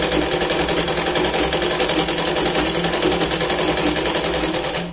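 A sewing machine runs steadily, stitching a Punjabi dress with a fast, even mechanical whir and rapid needle rhythm, loud and close, continuous throughout with no voices.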